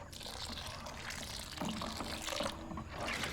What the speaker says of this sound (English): proceeds to gently stir the curds whilst adding hot water